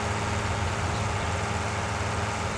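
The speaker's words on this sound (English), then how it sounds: "This tractor must be just super loud" Tractor engine running loud and close while mowing, baling and wrapping hay, a dense, constant low rumble with steady drone and no break.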